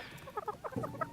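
Chickens on a backyard flock cluck in a short run of soft, close calls, one new hen among them a crested cream legbar, with no talk.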